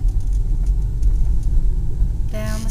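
A car drives slowly down a village street in Montealegre de Campos, Spain, its steady low engine rumble close and continuous, with a brighter rattling burst near the end.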